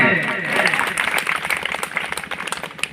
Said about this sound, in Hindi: वंदन अभिनंदन करते हैं जोरदार तालियों के साथ में